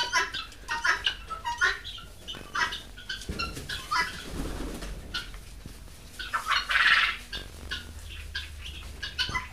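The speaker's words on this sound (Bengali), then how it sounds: "এই যে আমার তিতি মুরগি" Guinea fowl calling on a farm, repeated harsh squawking cries coming in bursts, fairly near, with other birds clucking in the background.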